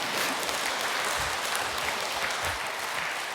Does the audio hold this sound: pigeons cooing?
no